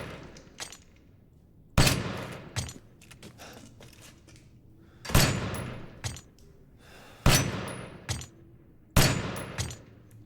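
Gunshots fired at crystals in the video game Resident Evil Village: about five loud, sharp blasts spaced a second or two apart, with softer crackling hits and faint glassy tinkles between them. No voices.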